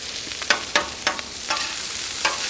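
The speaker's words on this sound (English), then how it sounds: "Some of that fat's gonna render. That's what that popping is you're hearing." Pastrami hash sizzles on a Cuisinart 360XL flat top griddle as rendering fat pops, a steady frying hiss broken by about half a dozen sharp pops spread irregularly across the moment, close and moderately loud with no talking.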